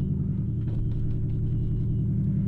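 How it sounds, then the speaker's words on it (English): A 2019 Ford Mustang GT with about 1,900 miles gives a steady, deep exhaust rumble while driving, a constant low drone heard close up from inside the cabin with no talking. "Maybe you can hear the exhaust some."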